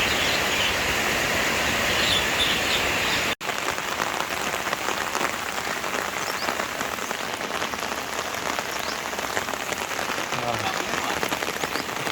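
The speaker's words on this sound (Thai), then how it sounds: "ฝนก็ยังตกอยู่นะครับ" Steady rain falls at dawn during a windy night storm, a dense, even hiss of drops pattering on surfaces close by, continuous for the whole stretch with a brief sharp click near the start.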